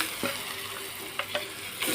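Chicken pieces sizzling in a pan with ginger garlic paste for a cashew chicken curry, a steady fry hiss broken by a few short stirring scrapes, close and moderately loud with no talk.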